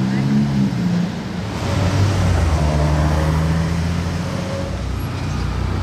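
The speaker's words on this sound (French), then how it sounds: "Ferrari Portofino M, donc la nouvelle Modificato" A Ferrari Portofino M drives past, its engine a sustained, rising and falling drone that swells close by and then holds steady, loud against a background of road noise.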